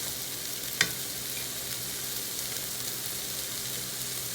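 A sweet potato, maple bacon and chorizo hash sizzles steadily in a pan, a constant bright frying hiss with one brief clink partway through.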